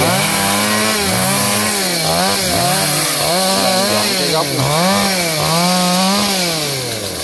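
GZ4350 chainsaw cutting branches from a large eucalyptus tree, its engine loud and close, revving and dipping in repeated cycles as it bites into the wood, with a brief voice under it.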